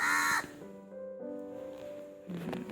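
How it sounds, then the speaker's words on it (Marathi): A crow caws loudly at first, then harsher calls follow more faintly in the background over a quiet outdoor hush in a Konkan village. "हे आपले कावळे दादा आहेत मागे"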